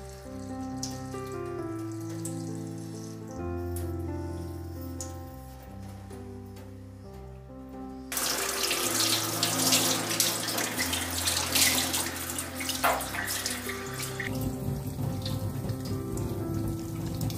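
Water from a hose gushing over a freshly bled live amberjack, rinsing its gills, a strong steady splashing stream that starts abruptly partway through over background music.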